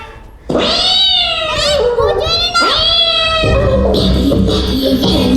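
A child in a children's stage play imitates a cat with a voice, giving two long rising-and-falling meows close and loud, followed by noisy, busy vocal sounds.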